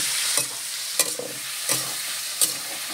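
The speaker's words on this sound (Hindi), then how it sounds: "इधर हम पनीर को डाल के भूंजेंगे।" Paneer pieces sizzle steadily in hot refined oil, a continuous close frying hiss broken by four sharp scraping stirs spaced about half a second to a second apart, with no talking.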